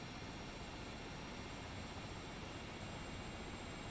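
Steady whining roar of a Rotorway Exec helicopter's engine and rotor spinning up in a flight simulator game, a constant dense drone with thin high tones, even and unbroken throughout.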